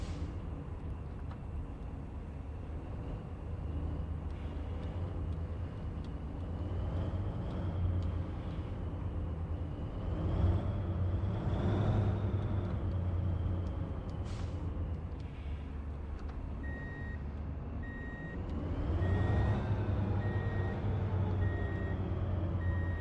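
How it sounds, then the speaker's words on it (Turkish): A heavy truck in the Truck and Logistics Simulator video game rumbles with a loud engine drone and gearbox whine as it maneuvers, then steady electronic reversing beeps repeat near the end, with no talking. "Şanzıman sesi çok"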